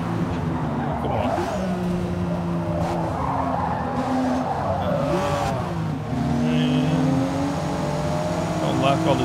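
Race cars in the Forza Motorsport video game on Xbox Series X, a sustained loud engine drone with repeated tire squeals and skidding as the pack jostles through corners, someone talking over the game sound.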